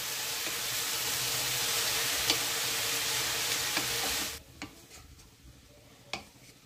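Drumstick flowers and mixed vegetables frying in a pan give a steady, close sizzle with soft stirring scrapes for about four seconds, then the sizzle drops away, leaving quiet clicks and a brief clatter.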